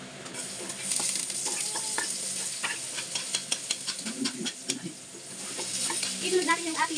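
Garlic and onion sauté in a pan while being stirred, a continuous hissing sizzle broken by repeated spatula scrapes and clinks, growing busier toward the end, with no speech.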